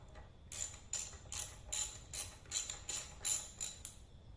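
Ratcheting clicks in quick repeated bursts as brake caliper bolts are snugged down on an Energica EVA electric motorcycle, about ten close, crisp pulses in steady rhythm with no talk.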